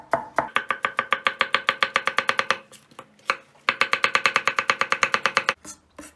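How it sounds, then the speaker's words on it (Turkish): Rapid, even knife chops on a cutting board as an onion is chopped, two long bursts of quick rhythmic strikes separated by a short pause, close up. "Lezzete lezzet katmak için bir de soğan doğrayacağız."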